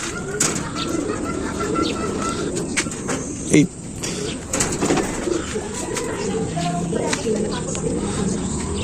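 Pigeons coo softly in a steady low murmur, with a few wing flutters and scattered clicks, while someone speaks briefly nearby.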